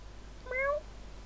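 A single short cat meow from a pet cat in Minecraft, rising and clear, heard alone over a steady low hum.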